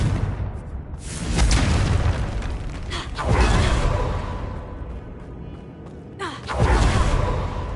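A Confringo blasting spell in a Hogwarts wizarding video game sounds as several booming explosions, each a broad loud burst with a rumbling tail, spaced a few seconds apart.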